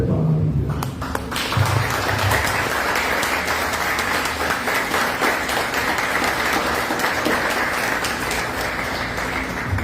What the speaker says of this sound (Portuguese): Eu convido todos a colocar-se em pé e aplaudir Jesus